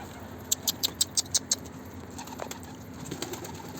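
A young pigeon takes off, and a quick series of about seven sharp wing claps rings out close by, followed by softer, fainter flutters as it flies away, with no talking.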